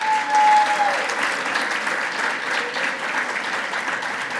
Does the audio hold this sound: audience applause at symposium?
yes